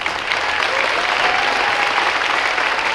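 A school concert audience gives steady, dense applause for the custodial staff, a full roomful of hands clapping continuously and close, with no talk over it.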